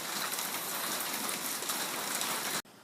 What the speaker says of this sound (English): Hopefully that's the last of the rain for the year.